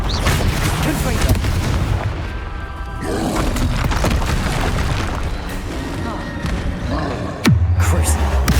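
Heavy booming blasts from the Confringo spell in the Hogwarts Legacy video game, loud and dense over continuous game noise, with a sharp impact near the end.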